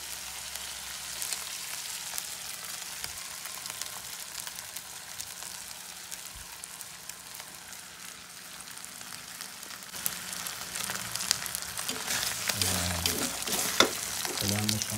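Two eggs fry in a pan that is not non-stick, giving a continuous close sizzle and crackle, with stirring scrapes and clatters growing busier toward the end and faint voices in the background.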